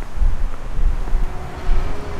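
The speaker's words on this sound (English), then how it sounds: "Yeah, and it's windy." Wind buffets a microphone outdoors despite a fluffy windscreen, giving a steady low rumbling roar with gusty surges and no speech.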